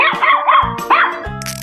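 A cartoonish dog in a 3D animal slide video game gives a few quick yapping barks, close and clear, with short musical game tones around them.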